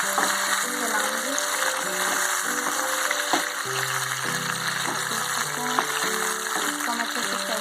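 Bhindi with tomatoes and green chillies is stirred in a pan, a soft steady sizzle with occasional scrapes and taps of the spoon, someone talking over it.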